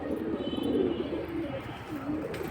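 Domestic pigeons, including a khaki-type female, cooing in low rolling phrases close by, with faint chirps and background murmur.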